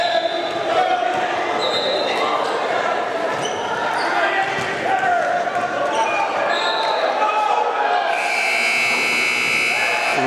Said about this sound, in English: Right at the buzzer, Keogh knocks it down for the 3 at the end of the shot clock